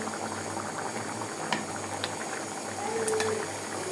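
A rohu fish and potato curry bubbles at a boil in a pot, a close, continuous simmering churn with a few small clinks and faint squeaks over it.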